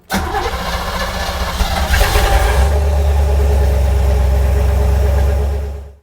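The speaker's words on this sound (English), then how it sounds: "and you start the car" Car engine cranking over and catching with a jump starter attached, then settling into a steady loud idle close by before the sound cuts off.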